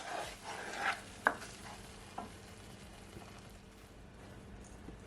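A spoon stirs corned beef with a little water in a pot on the stove over low heat, giving faint scraping and a gentle sizzle with a few soft knocks near the start, quiet and close, with no speech.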